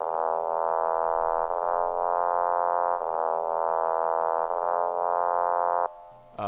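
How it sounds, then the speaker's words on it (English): A synthesized brass-like trumpet tone plays a slow melody of long, held notes that swell and change pitch every second or so, then cut off. "That's the trumpet noise that I used in like the brass section"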